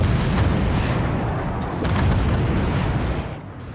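Weapons fire and explode in the video game Forts, a loud, continuous roar of blasts and booms that rumbles heavily and tapers off near the end.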